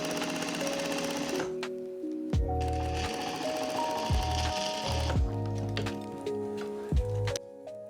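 Sewing machine stitching a quilt coat, a close, steady motor whir with rapid needle chatter running in bursts, speeding up and pausing between stretches of fabric.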